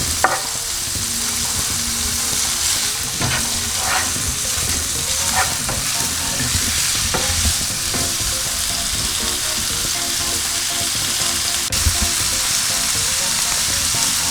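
Salmon fries in a hot pan with a loud, steady sizzle that runs without a break, with a few brief scraping stirs and no voices.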